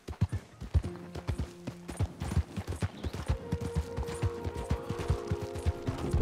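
Horse hooves clip-clopping over rocky ground in the video game Red Dead Redemption 2, a steady close rhythm of hoofbeats with jingling tack and a faint tonal hum.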